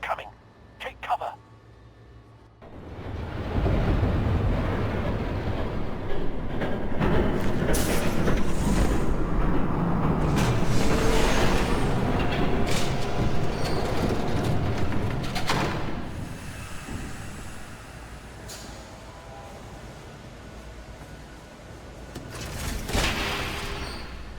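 A train approaches in the Batman Telltale video game: a loud, broad rumble swells in after a few seconds, holds steady, then eases off and rises again briefly near the end.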